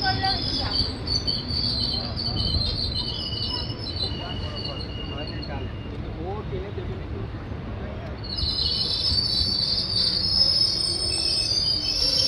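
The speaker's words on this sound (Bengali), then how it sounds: "ট্রেন এসে পৌঁছালো লাভপুর স্টেশন" Ahmadpur–Katwa passenger train pulling into Labhpur station: a steady loud rumble of wheels and carriages with high squealing brakes that fade and return toward the end, faint birdsong in the background.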